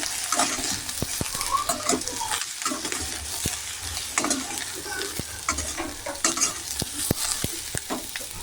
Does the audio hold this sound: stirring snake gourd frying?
yes